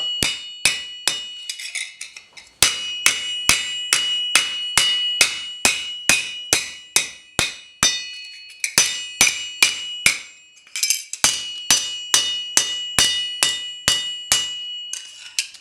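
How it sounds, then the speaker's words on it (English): A hammer strikes reclaimed sheet metal to flatten its edges, giving a long, fairly regular series of sharp, ringing metallic blows with bright overtones and only brief pauses. "take the hammer the edges,"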